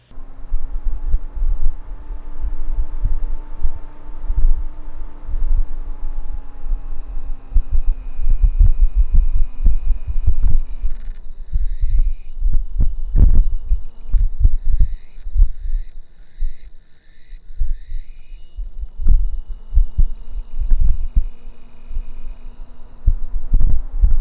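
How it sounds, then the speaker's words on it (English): A computer fan drones with a steady hum and an irregular thumping, throbbing rattle that shifts in pitch partway through. "one of the Nocturne fans started making really weird noises"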